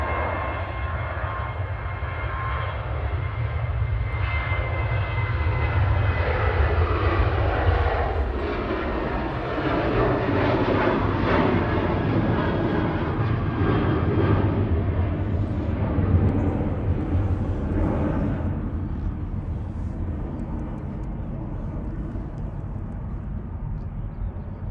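A KLM airliner takes off at Manchester Airport, its jet roar building from a distance, swelling loud and broad as it passes, then slowly fading, with no talk over it.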